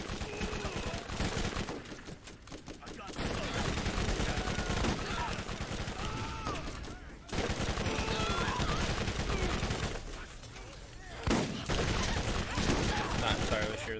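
Sustained bursts of explosive SMG fire in Borderlands Remastered, a rapid crackling stream broken by short pauses, loud and continuous with game noise underneath.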